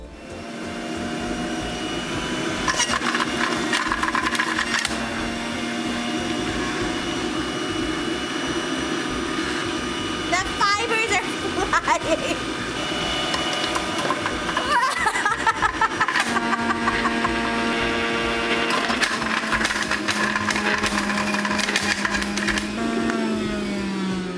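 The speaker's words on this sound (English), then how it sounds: "I'm going to try to use this juicer and just see what happens." An electric juicer works through sugarcane stalks with a loud, continuous motor roar and grinding, crackling bursts as the fibrous cane feeds in, close and sustained for over twenty seconds.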